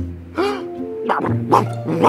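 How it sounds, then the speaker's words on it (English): A cartoon dog in The Garfield Show gives several short barks and yips in quick succession, close and clear, with no talking over them. "that includes barks of disapproval"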